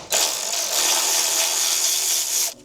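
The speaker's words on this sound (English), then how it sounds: "My new Milwaukee ratchet gun." A Milwaukee cordless ratchet gun runs in one loud, continuous burst of about two and a half seconds, a harsh, even whirring that starts and stops abruptly, close up, during a DIY motorsport brake duct job.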